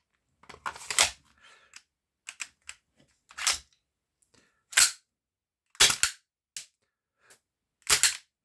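A Desert Eagle CO2 softair pistol fires a series of sharp, close cracks at irregular intervals, about seven louder pops among smaller clicks, with the cartridge running nearly empty.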